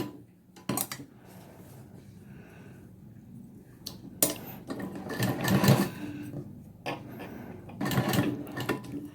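A sewing machine stitches slowly around a curved neckline in short bursts, pausing between runs as the fabric is turned, with clicking mechanical whirring close by and no talk.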